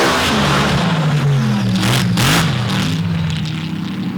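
Drag racing car at an MRA Open and Modified finals, its engine blipping in and out of the throttle at the tail end of a run, a loud continuous wavering roar with rising and falling pitch throughout.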